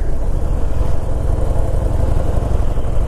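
A Heritage Softail motorcycle engine rumbles loud and steady while riding, with a constant low drone and no voices.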